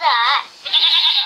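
A goat bleats twice in quick succession, a loud, wavering nasal call, up close and alone.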